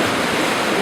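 The Konar river flowing in Naran, a steady loud rush of water close by with no pauses and no voices.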